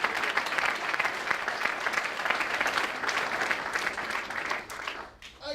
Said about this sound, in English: Can we have a big round of applause to Lucy for handing out the awards as well?